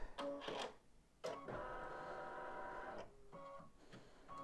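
An embroidery machine stitches a dog softie in the hoop with a fast mechanical whirring hum, broken by brief pauses and short bursts of stepping, heard alone and close.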